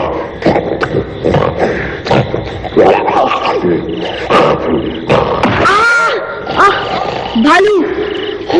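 A bear growls repeatedly in an animated Jungle Book cartoon, rough roaring growls rising and falling over a busy, loud mix, with a voice talking at moments.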